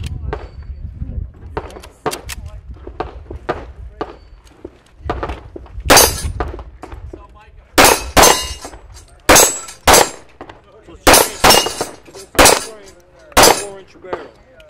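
A Springfield pistol magazine is released and drops free at a trade-show booth, amid a run of sharp metallic clanks and clicks of handling, some loud and close, with bursts of activity and faint voices around.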